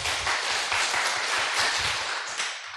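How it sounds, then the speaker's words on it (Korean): A church congregation claps in short, quick claps during an afternoon Sunday service, a dense steady burst of many hands lasting the whole stretch at even loudness, with no talk over it. "짧게 박수 10번 시작"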